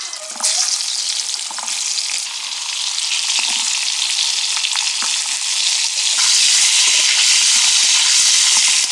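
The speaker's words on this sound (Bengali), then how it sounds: "পটলগুলো হালকা ভেজে নেব।" Pointed gourd slices fry in hot oil with turmeric, giving a steady, loud, close sizzle with scattered small pops and crackles throughout, no voices.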